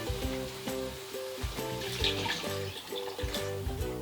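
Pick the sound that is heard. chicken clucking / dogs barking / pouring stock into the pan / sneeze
pouring stock into the pan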